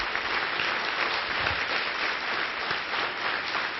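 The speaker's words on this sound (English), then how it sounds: "Let's begin by giving a huge round of applause for all of our poster presenters" Steady, dense applause from a keynote audience honouring poster presenters fills the whole stretch, even and sustained at moderate loudness with no pauses.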